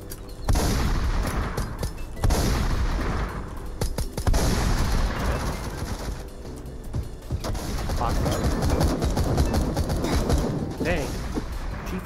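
Shotgun blasts in a Fortnite-style Roblox shooter ring out repeatedly, loud and near, among a dense run of other game gunfire and explosions, with a player talking over the action.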